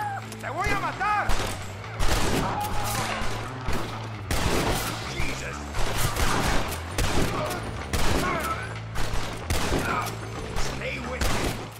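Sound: gunfire in video game Red Dead Redemption

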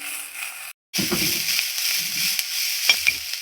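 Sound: dry-roasting pigeon pea pods while stirring

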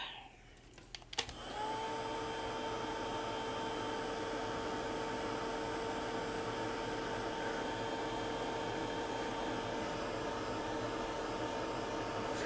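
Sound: hair dryer drying paint on an altered paper flower

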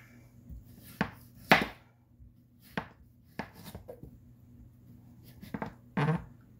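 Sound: cutting up fruit with a knife

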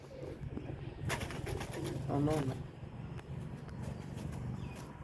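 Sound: pigeon arriving and cooing at a rooftop loft

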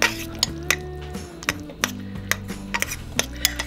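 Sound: two forks shredding and mixing chicken in a slow cooker

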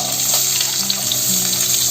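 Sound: onions frying in a pan

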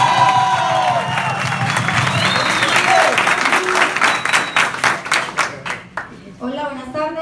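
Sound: audience applause

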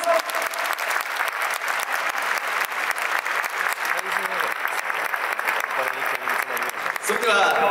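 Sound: applause at a Yokohama DeNA BayStars fan festival

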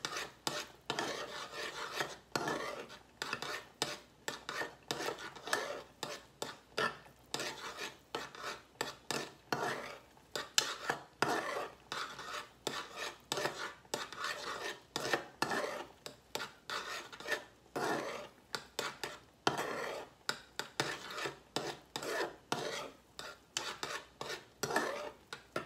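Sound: stirring instant grits in a pot

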